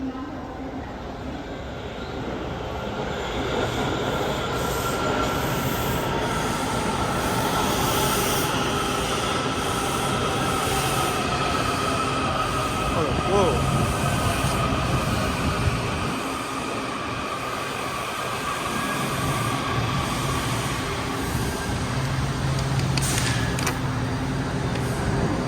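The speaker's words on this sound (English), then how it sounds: "This is a red line train to Glenmont." Washington Metro Red Line train running, a steady loud rumble and rail hiss inside the car with occasional clanks, and people's voices faintly audible under the noise.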